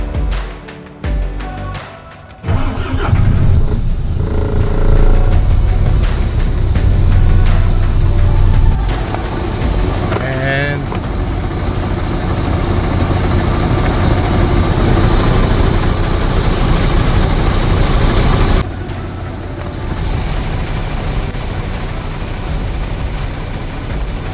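A MAN TGX truck engine cranks briefly, catches and settles into a loud, steady low diesel idle that runs on continuously, close by, with no voices.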